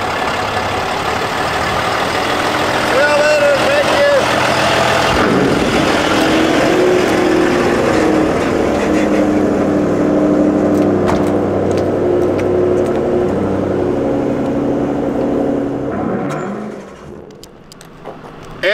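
A vehicle cruises down the road hauling a trailer, a continuous loud engine and road drone with shifting tones that fades away near the end.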